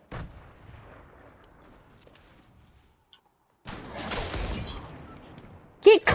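Clinger grenades exploding in the Fortnite video game: a quiet stretch, then a burst of blasts and crackle about midway, followed by one sharp loud bang near the end.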